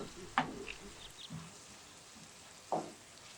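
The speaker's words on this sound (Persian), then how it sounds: "رب گوجه فرنگی هم اضافه میکنیم و تفت میدیم تا ربمون سرخ" Quiet, steady sizzling of tomato paste frying in a pan, with a couple of soft scraping stirs from a spatula; faint and close, no voices.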